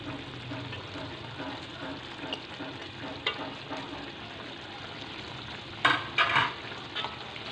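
Spring onion with paprika frying in a pan for chicken rogan josh, a low steady sizzle with soft stirring scrapes and a few sharper clinks near the end; no talking.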